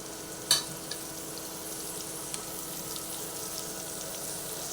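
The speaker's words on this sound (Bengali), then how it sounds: "ডাটাগুলোকে দিয়ে দিয়েছি এরপরে আবার একটু ভালোভাবে নাড়াচাড়া করে দিচ্ছি" Cut red amaranth stalks fry in a pan while being turned over, a steady low hiss of frying with a few sharp clinks of the spoon against the pan, close and quiet, no talking.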